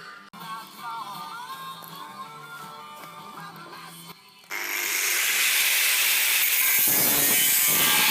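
Steel being cut for a machine shop build: a loud power-tool cut starts partway through and roars steadily to the end, after a quieter stretch of workshop noise with tonal mechanical sounds.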